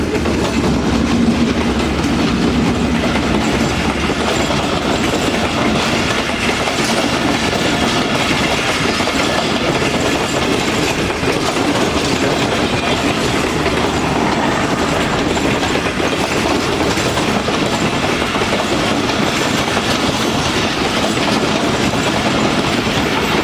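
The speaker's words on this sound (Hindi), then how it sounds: "अभी आ रही है हमारे सामने से कराची रावलपिंडी के दरमियान चलने वाली 7 अप तेज़गाम" The Tezgam 7 Up express, running between Karachi and Rawalpindi, passes close by a small halt station near Karachi, a steady, loud rumble with clattering wheels that carries on for the whole stretch.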